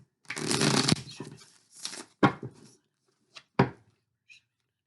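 Tarot cards being shuffled up close: a long riffling burst followed by several shorter shuffles and taps, with brief pauses in between.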